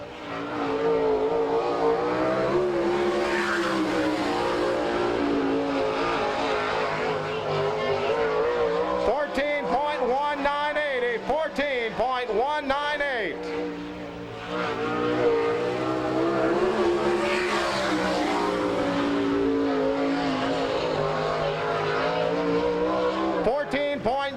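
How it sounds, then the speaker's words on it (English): Race cars roar continuously around a dirt track at a speedway in Salina, Kansas, engines rising and falling as they pass. A track announcer speaks over a public address system throughout. "Travis Whitney out of Fridley, Minnesota, making his way around to complete lap number 1"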